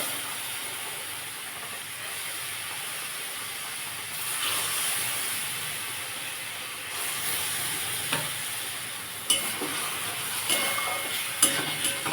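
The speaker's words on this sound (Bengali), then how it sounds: "দেখুন বন্ধুরা আমি দুধ দিয়ে দিচ্ছি এর মধ্যে" Milk poured into a hot pan of semolina sweet sets off a loud, hissing sizzle that swells in waves, with small pops and crackles toward the end.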